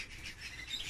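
Canaries in an aviary give faint, brief chirps and squawks over a soft background hiss, somewhat distant.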